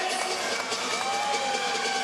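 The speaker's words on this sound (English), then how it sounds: "you even hear the crowd getting excited over those stuffed blocks" Volleyball crowd in an arena cheering and roaring after a stuffed block in a women's match against New Mexico State, a steady, loud wash of excited voices filling the whole stretch.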